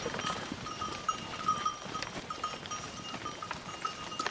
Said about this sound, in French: Élève une race de chèvres qui s'appelle des chèvres du Rove.